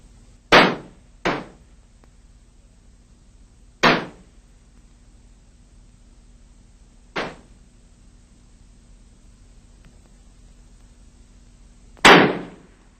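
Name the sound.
50m men's small-bore free rifle shots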